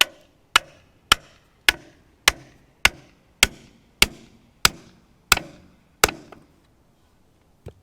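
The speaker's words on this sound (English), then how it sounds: "Drive it on in the ground." Around ten sharp, evenly spaced hammer blows drive a custom stake into the ground for a concrete shop pad, each strike loud and close with a short ringing decay, then a lone faint tap after a pause.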